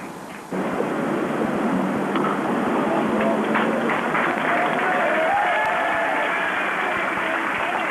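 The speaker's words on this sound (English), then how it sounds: "Appreciative applause from the South African section of the crowd away to our left." Crowd applause from the stands at a 1992 Cricket World Cup match between South Africa and Zimbabwe, sustained and somewhat distant, a broad wash of clapping heard over steady background noise.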